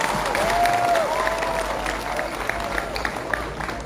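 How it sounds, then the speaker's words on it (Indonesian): Students applauding at a school police outreach session, a sustained wash of many hands clapping in a hall with faint crowd voices and a brief rising tone mixed in, steady then slightly thinning. "Ayo tepuk tangan dulu semuanya."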